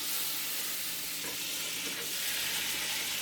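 Butter melting in a pan over medium to medium-high heat gives a steady, bright sizzle that runs evenly throughout, with a faint scrape or two from a whisk partway through.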